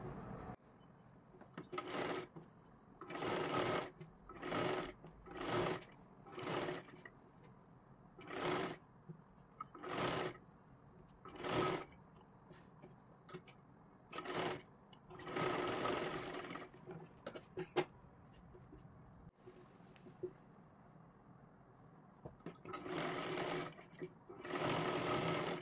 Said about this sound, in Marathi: आपल्याला हे अशा पद्धतीने गोल आकारामध्ये पूर्ण आपल्याला शिलाई मारून घ्यायची आहे